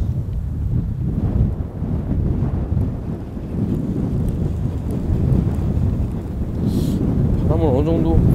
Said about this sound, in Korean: 아 또 바람